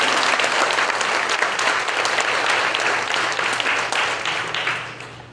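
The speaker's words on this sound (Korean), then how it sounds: "하나님께 영광 박수를 드리겠습니다." Congregation applause at a Korean church installation thanksgiving service, a thick wash of many hands clapping together, loud and sustained before slowly thinning and fading toward the end.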